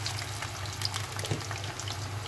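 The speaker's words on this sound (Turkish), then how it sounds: "Böyle kızartalım." Steady crackling sizzle of potatoes frying in hot oil, a dense continuous hiss with small pops, no voices.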